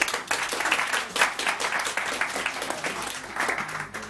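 An audience in a talk on personality types breaks into sustained applause, a dense wash of clapping that swells and dips for several seconds with no voices over it.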